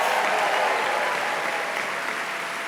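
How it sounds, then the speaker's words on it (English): Sustained crowd applause for a city mayor at a live podcast taping, a steady, dense wash of many hands clapping that tapers slightly toward the end. "Let's have another round of applause for Mayor Lurie"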